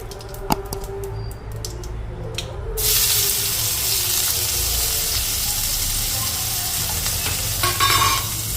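Whole Indian gooseberries (amla) drop into a hot pan for pickle and burst into a loud, steady sizzle that starts abruptly and continues alone, with a few light clinks of a utensil beforehand.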